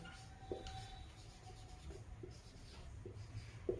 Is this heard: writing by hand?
yes